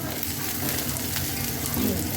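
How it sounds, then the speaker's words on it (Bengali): Continuous sizzling of food frying in a pan, with soft scraping from stirring, steady and close. "এইগুলো দিয়ে এবার আমি সবটা আরেকটুখানি ভাজা করে নেব"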